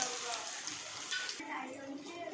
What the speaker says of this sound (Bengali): তেলটা খুব ভালো করে গরম হয়ে গেছে, তেলের মধ্যে ছেড়ে দিচ্ছি।